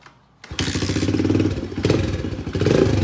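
A Kawasaki KLX110L pit bike is kick-started: after a short quiet moment, a thump brings the small engine to life, and it then runs close by with a buzzing, pulsing idle.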